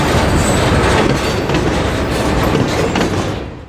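Loud, close freight train with boxcars and center beams from a building materials company rolling past on the Portsmouth Branch in winter, a dense rumble with wheel clatter and faint squeals fading slightly at the end.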